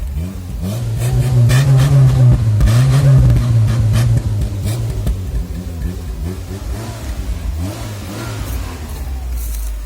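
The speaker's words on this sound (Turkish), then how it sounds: "3 yıldır çalışmayan arabayı çalıştırdı" An old Renault TS car engine, started after three years unused, revs hard and loud, rising and falling in repeated surges before dropping back to a rough, rumbling idle.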